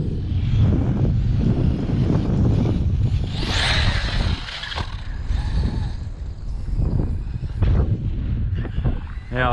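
Strong gusty wind buffets the microphone on a beach, a steady loud roar with rumbling low buffeting and brief flurries throughout.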